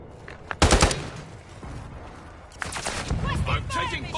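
In Call of Duty Modern Warfare 2, a quick burst of gunfire cracks out, followed later by a longer stretch of shooting mixed with a voice.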